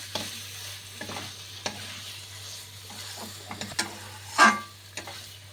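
Snake gourd posto with potato is stirred in a pan just after raw mustard oil is poured on top, giving a low sizzle under intermittent spoon scrapes, close up, with one louder scrape near the end.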